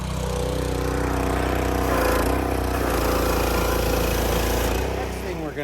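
A pressure washer runs loud and continuously with a steady engine drone and hissing spray while spraying off the frame of a 2002 Dakota during a body swap for a 1962 Rambler wagon.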